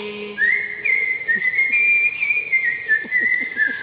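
Someone whistles a relaxed, wandering melody, clear and close, with soft rhythmic tapping underneath.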